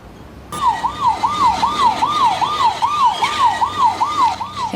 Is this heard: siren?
yes